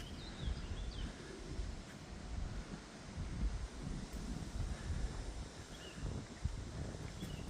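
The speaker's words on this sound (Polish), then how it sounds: "mocny dzisiaj wiatrzysko jest" Strong gusty wind roars steadily into an outdoor microphone at a pigeon racing loft, a constant broadband rush with faint bird chirps behind it and no talking.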